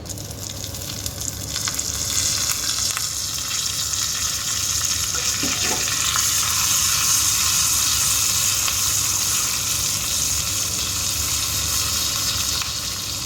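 Asafoetida and curry leaves crackle and sizzle in hot oil for tempering millet pongal, a steady loud frying hiss with a few sharp pops partway through.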